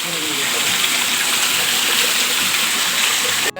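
Water rushes and gushes steadily along a street, a loud continuous flow like runoff after heavy rain, with no clear speech.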